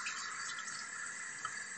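Cold tap water running steadily into a kitchen sink while corned beef is rinsed, a soft continuous splashing hiss with faint irregular drips, heard alone at low level.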